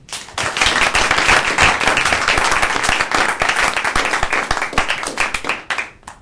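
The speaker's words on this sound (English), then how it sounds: "I wish everybody here would join me in a round of applause for Amy" An audience at a talk on Japanese politics bursts into loud, sustained applause. Dense clapping fills the room for about six seconds, then tapers off at the end.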